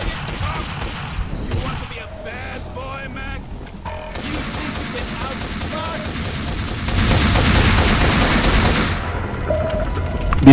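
Gunfire in Max Payne 2, a busy mix of rapid shots and crashing impacts that swells louder toward the end, with someone talking over it.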